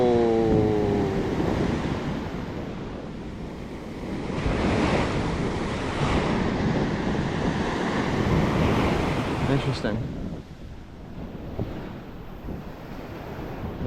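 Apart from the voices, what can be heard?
ocean waves breaking on Captiva beach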